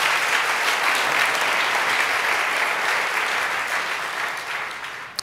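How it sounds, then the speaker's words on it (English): Audience at a talk on Transcendental Meditation for veterans breaks into dense, sustained applause, loud and even for several seconds before fading near the end. "It's worth clapping on that one."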